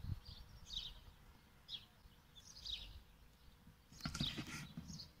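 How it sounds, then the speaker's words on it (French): Birds sing outdoors around a home, with repeated short chirping phrases at moderate distance over a low background rumble, joined near the end by a louder burst of calls and a brief noise. "au bruit des oiseaux ici chez moi"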